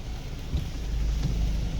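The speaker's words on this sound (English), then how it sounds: "The rain has definitely started in full swing" Heavy rain pours during a long overcast drive in rush hour traffic: a steady, dense low rumble and hiss of rain and road noise, continuous and fairly quiet, with no voices.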